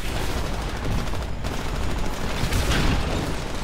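A smart pistol fires in a video game, producing dense, continuous gunfire that sounds like a rapid fusillade throughout.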